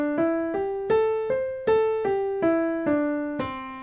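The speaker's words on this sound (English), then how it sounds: "That is the major pentatonic scale." A major pentatonic scale rings out as a steady series of plucked notes climbing and then falling back, each note distinct and decaying, played solo at an even pace with no talk.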